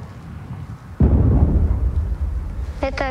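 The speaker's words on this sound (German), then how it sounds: "das war ein Schuss" A single distant gunshot in a war zone: a sharp, booming report at about one second, followed by a long rumbling decay over outdoor background noise; a voice starts briefly at the end.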